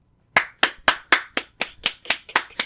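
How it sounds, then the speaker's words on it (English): Nine sharp hand claps in a steady, even rhythm, close and loud, with nothing else heard. "Clap if you believe in Buddy."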